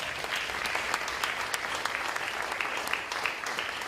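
A crowd at a school ribbon cutting ceremony claps in sustained applause, a dense, steady patter of many hands with sharper individual claps popping through, moderately loud throughout.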